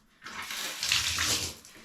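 Running water splashes over a bare leg, a soft steady pour that starts after a brief pause and continues close by at low volume.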